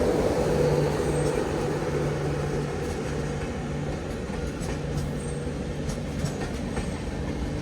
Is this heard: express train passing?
yes